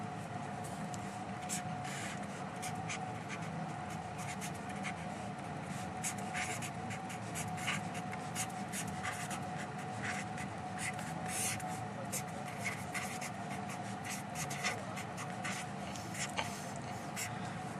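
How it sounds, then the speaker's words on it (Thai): A math solution being written out by hand, soft continuous pen or marker scratching on a writing surface, close and faint, running steadily beneath a man's calm spoken explanation. "เรา เขียน ใหม่ให้ชัดเจนยิ่งขึ้นนะครับ"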